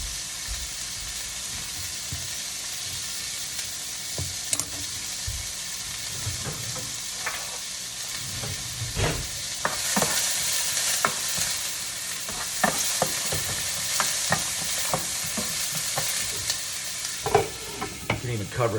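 Onions fry with a continuous close sizzle while a utensil scrapes and stirs in repeated irregular strokes, the sizzle swelling louder partway through; no one speaks.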